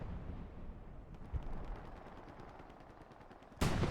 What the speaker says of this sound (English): They're shelling this area here. With the artillery ability